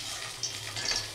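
Banana flower pakoras deep-frying in hot oil, Bengali style, giving a soft, steady sizzle with a few brief crackles popping above it.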